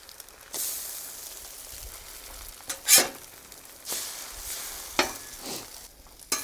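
Eggs sizzle steadily in a pan at a camp cookout while French toast cooks, with broadband frying hiss throughout and a few louder bursts of crackle and scraping as the food is stirred or moved.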